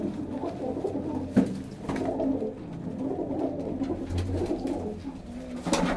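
Pigeons coo softly and repeatedly nearby, low throaty calls over a quiet background, with a couple of sharper flutters or bumps.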